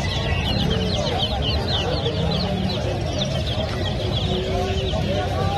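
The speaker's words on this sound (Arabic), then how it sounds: "وهذني افراخ الدجاج العربي مال مفاقس" Arab chicken chicks for sale at a busy Baghdad Friday market peep in a dense, continuous chorus of high chirps close by, with clucking fowl and faint crowd voices around them.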